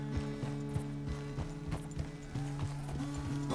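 Horse hooves clip-clop in a steady, close walking rhythm in Red Dead Redemption II, over a low tonal background hum and music.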